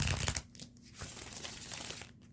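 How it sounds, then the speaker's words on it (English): Tarot cards shuffled by hand, giving crisp papery riffles and crinkling bursts, loudest at the start, then a steady softer rustle that continues to the end. "I love how these cards shuffle too."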